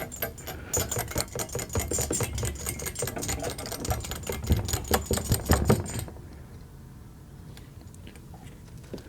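A jiggle siphon shaken up and down inside an outboard motor fuel tank makes rapid rattling, clicking taps in a quick uneven rhythm for about six seconds, then stops, leaving quiet.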